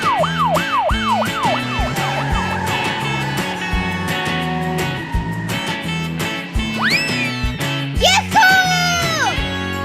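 Toy police car siren wailing in rising and falling sweeps, first as quick repeated whoops and later as longer swells, over cheerful background music.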